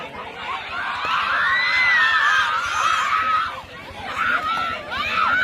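Crowd of schoolchildren at a school kabaddi match between Shillai and Schollars Academy, screaming and shouting in a loud sustained roar that swells and dips, with voices cheering throughout.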